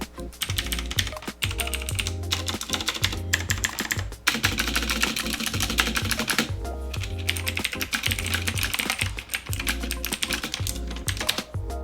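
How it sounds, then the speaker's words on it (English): Rapid clicky keystrokes on a Marvo KG934 mechanical keyboard with clicky switches, close and continuous, with brief pauses between bursts of typing. "we're gonna do a typing test right now for y'all to hear what that sounds like"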